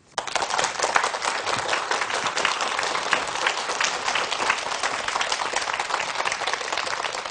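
An audience welcomes a lecturer to a televised special lecture with dense, steady applause that holds at an even level throughout, close and full, with no talking.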